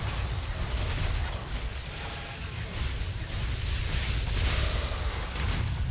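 Explosions and combat effects from the action role-playing game Torchlight 2 form a dense, continuous wash of booms and crackling blasts at constant loudness, with no voice over them.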